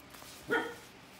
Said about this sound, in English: You're a good little guard dog, aren't you, Bob?